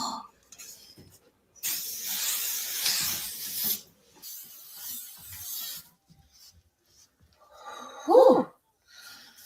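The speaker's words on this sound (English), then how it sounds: "It says King's Ego Spray." A bottle of King's Ego Spray hisses in a long aerosol burst, followed by a shorter fainter spray; a brief voiced exclamation comes near the end, and the rest is mostly quiet.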